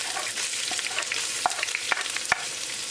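Ginger and garlic sizzle in a hot pan with cumin seeds, a steady frying hiss broken by small pops and crackles as a spoon stirs.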